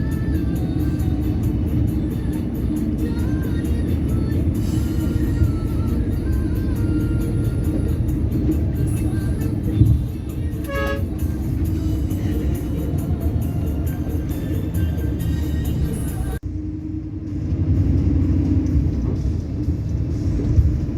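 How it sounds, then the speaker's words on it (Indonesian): Steady low rumble of a Sinar Jaya executive bus cruising along the Pantura coastal highway, heard from inside the cabin as a continuous drone that dips briefly near the end. "Bis yang kita naiki berjalan santai ya teman-teman"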